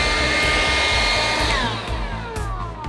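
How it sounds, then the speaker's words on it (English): A leaf blower roars loudly and steadily at close range while clearing pre-emergent granules off concrete, with a faint whine shifting slightly in pitch. "don't forget to blow off your pre-emergent off the concrete"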